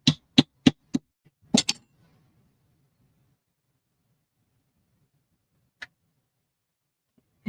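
A wooden spindle is hammered into a wooden block for a vintage-style chair pincushion, giving a quick run of five sharp taps, a pause, then two more isolated knocks, close and alone.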